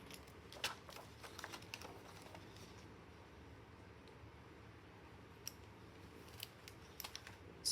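Scissors trimming extra paper during a planner setup, quiet snips and light handling clicks scattered across a soft room background.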